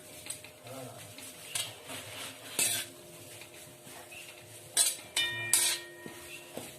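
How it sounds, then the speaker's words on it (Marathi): Coconut slices frying over low heat in oil for puffed-rice chivda: a quiet sizzle beneath frequent metal spoon clinks and scrapes against the pan. "मंद आचेवर भाजायचे, खोबऱ्याला तळून घ्यायचे तेलामध्ये।"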